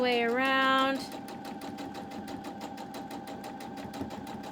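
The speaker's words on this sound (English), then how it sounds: "Sewing right sides together" A sewing machine stitching fabric pieces right sides together with a quarter-inch seam, a rapid even needle chatter after a brief rising whine as it starts up, close and continuous.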